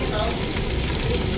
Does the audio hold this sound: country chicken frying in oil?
yes